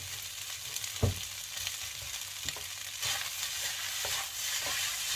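A large onion frying in a pan for shrimp fried rice sizzles steadily up close, punctuated by a loud spatula clank near the start and several softer scraping stirs, with no speech.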